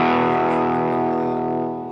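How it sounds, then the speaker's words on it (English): Heavily distorted electric guitar chord through a screamer-style overdrive and boost pedal together, ringing out with a thick, saturated tone, sustaining and slowly fading toward the end. "bit more distortion with adding in the screamer and the boost together"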